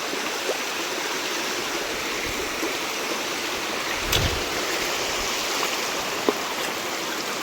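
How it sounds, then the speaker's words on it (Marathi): Waterfall water pouring down from above into a rocky stream on the Raigad to Mahabaleshwar route, a steady, loud, close rush of flowing water with a couple of faint splashes and no voices. "ॲक्च्युली ही नदी बोलता नाही येणार याला, हे आहे धबधब्याचं पाणी वरच्या."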